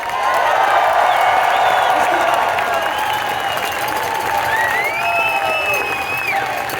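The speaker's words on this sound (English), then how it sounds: "round of applause to Governor J.B. Pritzker and Congresswoman Ramirez" Outdoor rally crowd at Grant Park in Chicago applauding and cheering Governor J.B. Pritzker, a loud sustained roar of clapping with rising whoops and whistles layered over the noise.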